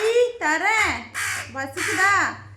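A crow caws loudly and close by, giving several harsh, drawn-out calls in quick succession.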